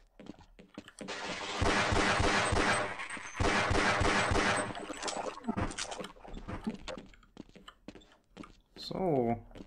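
Gunfire in the video game Half-Life, with rapid bursts of shots packed densely over the first half, then scattered single impacts and clatter, loud and close.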